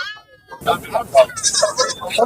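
A young female goat kid bleats repeatedly at a busy rural goat market in Kunnathur, loud and close, with short rhythmic cries over crowd noise.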